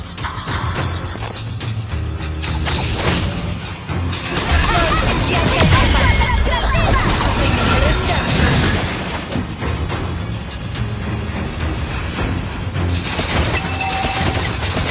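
Explosions and bursts of fire in a combat video game, dense and loud throughout, layered with booms, crackling blasts and game sound effects that swell toward the middle.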